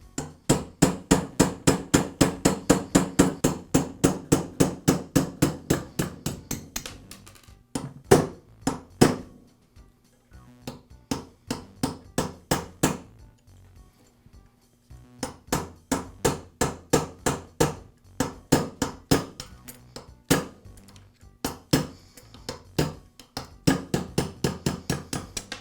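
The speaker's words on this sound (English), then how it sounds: "I'll support the piston on my vise and use a punch to remove the roll pins." A punch is hammered to drive roll pins out of a Senco nail gun piston held in a vise, in long runs of rapid, sharp metallic taps. Two short pauses break the runs, and no voices are heard.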